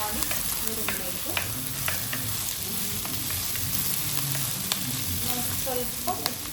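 Green chilies fry in an oily pan with a busy, steady sizzle, and light spatters and stirring taps pop through over the hiss.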